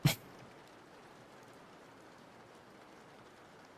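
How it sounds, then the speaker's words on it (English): Soft, steady rain hisses faintly in the background after a brief knock at the start, with no voices. "You guys can hear the rain, right?"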